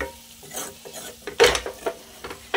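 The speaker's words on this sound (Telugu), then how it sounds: "ఆఫ్టర్ 20 మినిట్స్ ఇలా మొత్తం ఫ్రై అయిపోయింది" Chicken leg pieces coated in a coriander, mint, onion and ginger paste fry in a pan with a steady close sizzle, with scattered stirring and scraping noises and a louder burst around the middle; no voices.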